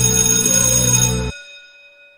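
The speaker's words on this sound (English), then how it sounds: "I'm going to hit the bell again." A bell is struck once, ringing with a bright metallic tone and several sustained overtones, then cut off abruptly with only faint high harmonics lingering briefly afterward.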